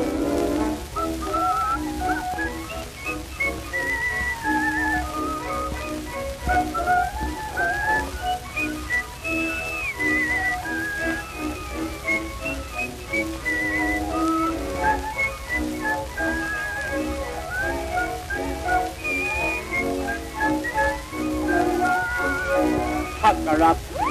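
Whistling from an old recording, melodic tune over a crackly, hissy band accompaniment, continuous throughout.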